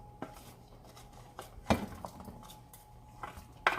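A few sharp clinks and clatters of utensils against a cooking pan ring out as carrots go in, scattered knocks spread over a few seconds in a quiet kitchen.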